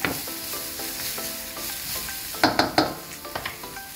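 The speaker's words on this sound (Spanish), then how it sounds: "Esto lo vamos a sofreír muy poco porque al fin y al cabo la cocina oriental." Spring onion and chives sauté briefly in a pan for an Oriental chicken dish, a steady sizzle with a few sharp stirring scrapes and clinks near the end.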